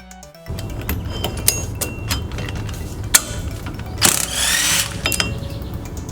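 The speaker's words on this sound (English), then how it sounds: "These mount bolts are 14 millimeter. And I'm using a magnetic socket to pull them out." A ratchet with a magnetic socket working 14 mm mount bolts loose on a Toyota Corolla during a rear wheel bearing job, giving close mechanical clicks and rattles over a steady hum, with one longer burst of grinding ratcheting.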